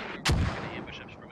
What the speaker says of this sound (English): Mortars are still landing that same position.